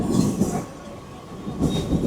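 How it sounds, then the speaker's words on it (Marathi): Inside a crowded Mumbai local train running at night from Kurla toward Panvel, a loud rolling rumble and wheel clatter swells and fades around the listener. "कुर्ल्यावरून ट्रेन पकडले पनवेलची"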